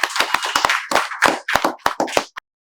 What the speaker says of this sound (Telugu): చప్పట్లతో వెల్కమ్ చెప్తూ తెలియజేస్తున్నాం.